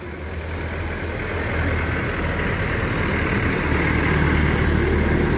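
A big bike motorcycle engine rumbles steadily through its exhaust system at a close idle, a dense, constant drone that swells slightly over a few seconds with no talking.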